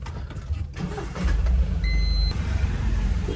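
A loaded vehicle cranks and its engine catches, settling into a loud, steady low rumble close by, with a brief high whine partway through.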